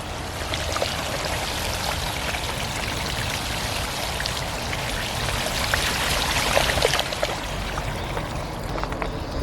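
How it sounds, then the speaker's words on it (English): Water flows and splashes steadily nearby, a continuous broadband rush with scattered drips and trickles throughout, fairly soft and uninterrupted, with no voices. "Water's coming from that side."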